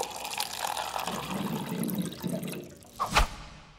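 A water cooler gurgles and splashes in a soft, bubbling stream, ending in a short, louder glug near the finish; nobody speaks.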